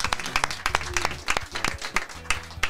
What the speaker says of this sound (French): Je vous demande d'applaudir Abder.